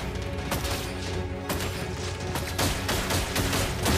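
Rapid bursts of video game gunfire crackle in quick succession, sharp repeated shots stacked over a busy, constant background din.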